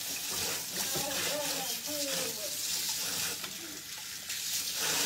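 A steady hiss of water spraying runs throughout, close and continuous, with a voice speaking briefly underneath.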